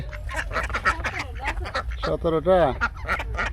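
Ducks on a river char island in Bangladesh quack and honk in loud, raspy bursts nearby, with a person talking over them.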